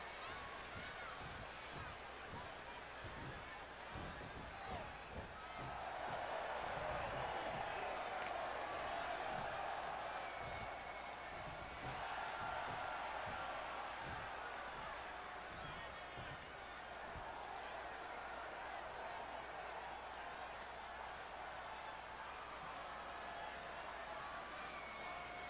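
Steady roar of a wrestling arena crowd in WWE 2K20 SmackDown, swelling a little midway, with light thuds and slaps in the foreground and commentators talking over it throughout.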